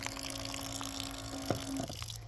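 Water runs from a push-button, rechargeable automatic tap at a campsite, a steady close flow with a brief splashing change near the end.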